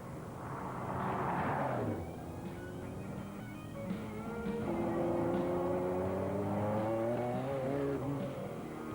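A fast car accelerates hard, its engine note climbing steadily through the gears with loud, continuous revving and a brief shift dip, close and dominant throughout.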